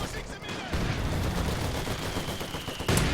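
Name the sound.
grease gun gunfire in a video game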